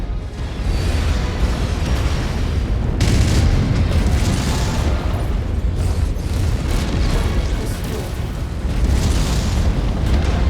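Heavy, continuous booming blasts from a MechWarrior 5: Mercenaries battle, dense and loud throughout with no pauses, like rapid cannon fire.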